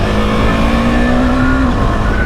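KTM 390 Adventure motorcycle, traction control off, roars loud and near as it hits and jumps a speed breaker, its engine note holding a steady tone before shifting slightly higher.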